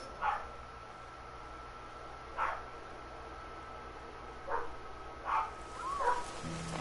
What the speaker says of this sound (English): Why do my dogs have to bark?